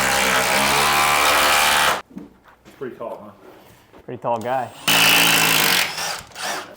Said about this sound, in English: That's great for overhead drilling.